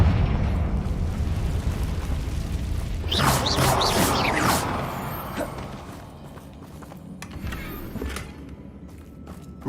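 A Confringo fire spell in Hogwarts Legacy bursts into a loud explosive blast with a short crackling tail, followed by scattered quieter thuds and footsteps in a cavern.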